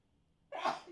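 A single sharp sneeze bursts in halfway through, close and loud after near silence, with a bright breathy spray that trails off quickly.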